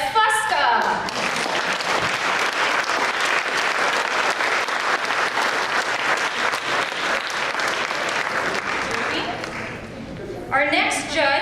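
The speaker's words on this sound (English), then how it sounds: "Everyone, please give a big round of applause for Jimmy the Balding Chef Fusca." Audience applauding a judge, Jimmy the Balding Chef Fusca, at a cooking competition, a long, loud, sustained round of clapping that fades near the end, with a speaking voice at the start and again at the close.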